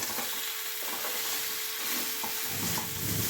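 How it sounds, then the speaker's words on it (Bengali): Water poured into a pan of sizzling, well-fried spice masala for a Bengali curry, producing a steady loud hiss and bubbling fry with some stirring scrapes throughout. "আমি একটু জল দিয়ে দেবো"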